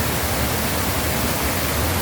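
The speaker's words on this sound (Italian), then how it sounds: "Ed ecco anche il nome di questo torrente, il torrente Pramalina" The Torrente Pramalina, a mountain stream swollen by October rains, rushes in a dense, loud, constant roar of water with no other sounds.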